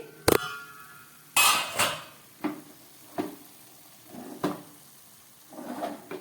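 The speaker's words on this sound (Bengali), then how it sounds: "এবার ঢাকাটা খুলছি" A lid lifted off a cooking pot of eggplant curry on a gas stove, heard as a sharp metallic click followed by several separate clanks and knocks of metal and cookware, fairly close and with no talking.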